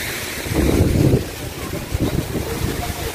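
Strong wind from a sandstorm buffets the microphone on the grounds of the Stella di Mare hotel in Hurghada, Egypt, a loud low rumbling roar that surges and eases.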